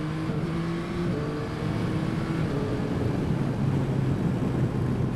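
A 2021 Yamaha Tracer 9 GT motorcycle ridden in first gear on a damp road, its steady engine drone and tonal whine heard from the saddle under heavy rushing wind noise.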